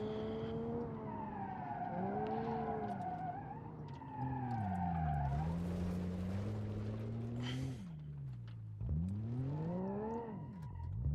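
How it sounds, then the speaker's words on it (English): An ETK 3000IX car in BeamNG.drive, a driving game, slides around a corner in a four-wheel drift; a loud, rising and falling engine whine runs throughout with bursts of scrubbing tire noise mid-clip and no talk. "as we go around the corner, we get some nice 4-wheel drifts out of the car"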